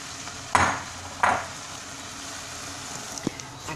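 Eggs dropped into a hot frying pan make two sharp splattering bursts that each trail off into a sizzle, followed by a faint clink near the end over a quiet frying hiss.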